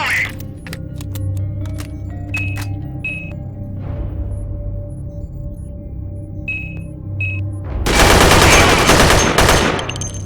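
Covering gunfire in the sci-fi shooter Dead Effect 2: scattered sharp shots and electronic beeps early on, then a dense, loud burst of rapid automatic fire near the end.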